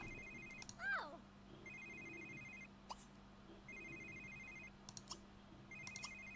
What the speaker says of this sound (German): Wow, jetzt geht der Handy.